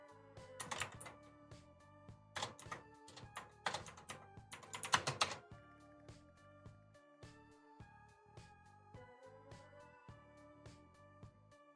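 Bursts of clicky keystrokes on a computer keyboard, fast and close, clustered in quick flurries and then easing into slower single taps.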